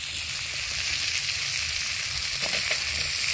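Potatoes and chopped vegetable stalks sizzle and fry in a pan while being stirred, a steady close crackle with faint scraping and no talking.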